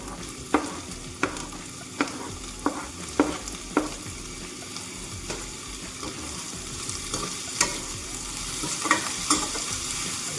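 Chicken fries with onion and tomato while being stirred, a steady close sizzle punctuated by regular spatula scrapes and knocks against the pan, with no talk.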